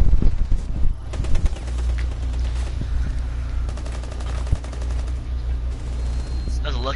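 Rapid bursts of automatic gunfire from a Rainbow Six Siege match, loud and close, with repeated volleys running through the whole stretch and a voice briefly heard at the start.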